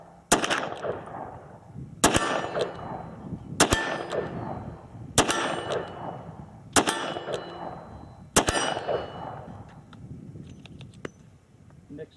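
Smith & Wesson Performance Center 686 Plus 7-shot revolver with a 5-inch barrel firing .357 Magnum rounds outdoors: six sharp, loud shots spaced about a second and a half apart, each ringing briefly, then quiet with faint background noise.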